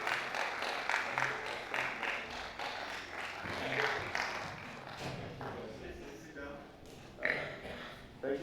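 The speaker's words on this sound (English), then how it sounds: "A round of applause for him, please." A workshop audience claps for a speaker walking on stage, producing scattered, uneven applause at moderate distance, with chatter and movement in the room mixed in.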